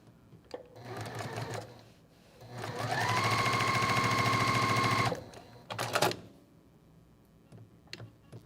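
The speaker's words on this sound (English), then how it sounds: "I'm going to sew on the side, sew on the lines." A sewing machine stitches quilt fabric along a marked line, running in a steady fast mechanical whir for about two seconds, with quiet handling noises and a short clatter before and after.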